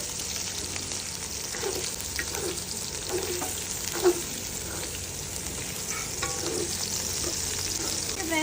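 Ginger slices and about ten crushed garlic cloves fry in oil with a steady, moderately loud sizzle, and a few soft stirring scrapes are heard throughout.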